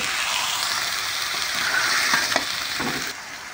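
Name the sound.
mushrooms and peas frying in a pan with spices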